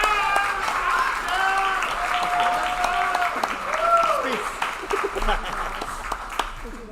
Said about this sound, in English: let's give a really big round of applause.